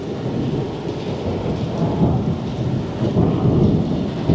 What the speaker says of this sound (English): I'm headed into the rain more.